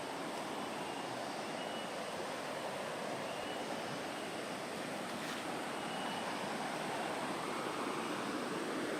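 Water rushes steadily past a riverbank in a rural village, a continuous broadband wash that stays constant throughout with no voices.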